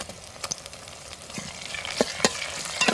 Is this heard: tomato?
yes